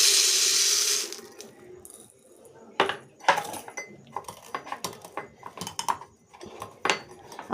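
Dry lentils from a ration are poured into a container. The pour makes a burst of rattling, clattering grains at the start, followed by scattered clinks and knocks.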